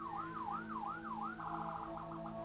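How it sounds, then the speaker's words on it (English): Several sirens wail outside in the distance, their pitch sweeping up and down in slow cycles before breaking into a faster yelp, steady and fairly faint throughout with no one speaking. "I don't know if y'all can hear those sirens, but there's a whole bunch of something going on outside."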